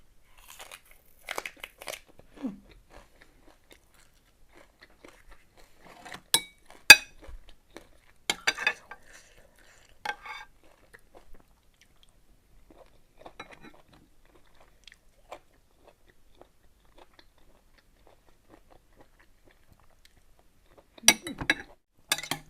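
Crunchy Swedish bee mushrooms being chewed and bitten, giving sparse, quiet, close crisp crunches separated by long silent pauses, with a denser cluster of bites near the end.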